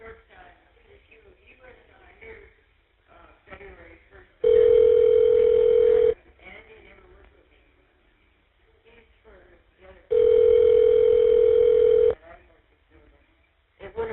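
Long steady telephone tones sound twice through a prison phone line during an inmate call, each lasting about two seconds, loud and even, with muffled voices and line noise in the quieter stretches between them.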